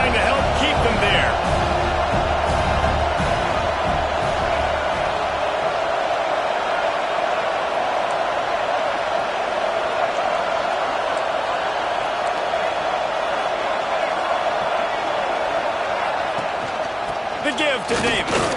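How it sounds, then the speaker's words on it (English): Steady stadium crowd roar in a video game football broadcast, a continuous loud wash of cheering with no break, under commentary. "this crowd trying to help keep them there"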